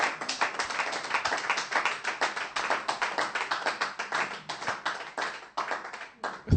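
A church congregation claps to acclaim the Lord, fast rhythmic hand claps from many people keeping a steady, lively beat, close and loud, with no speech over them.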